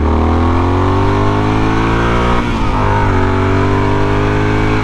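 A Yamaha Super Tenere motorcycle fitted with an upgraded aftermarket exhaust revs hard in second gear, its loud, close engine note climbing steadily in pitch, dipping briefly midway, then rising again.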